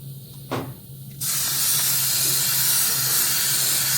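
A spray can or spray gun lays down a light dust coat of transparent paint in a steady, close hiss that starts abruptly partway through and runs on evenly to the end, after a brief faint puff earlier.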